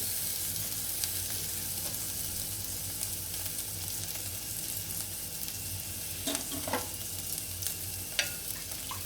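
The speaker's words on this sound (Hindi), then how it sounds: "1 से 2 मिनट फ्राई कर लीजिए, गैस स्लो करके" Low, steady frying in a pan over a slow gas flame during kadhi cooking, soft continuous crackle with occasional stirring clicks near the end, close and without speech.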